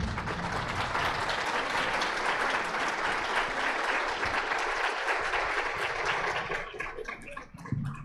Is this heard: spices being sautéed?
no